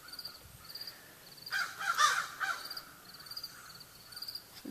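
Crows caw from a short distance in a lush, rain-soaked garden in the early morning, with a burst of several overlapping harsh calls in the middle and fainter calls repeating around it.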